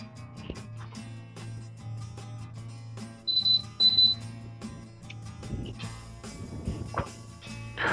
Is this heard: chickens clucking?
no